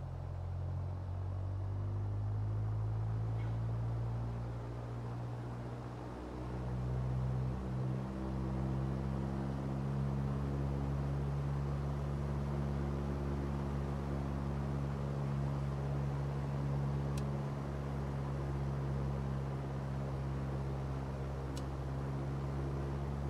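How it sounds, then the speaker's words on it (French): Light aircraft engine run-up test in Microsoft Flight Simulator, a steady, loud, droning engine rumble that holds almost constant, with a slight dip and recovery partway through and no talking. "On va faire les essais moteurs, même ici."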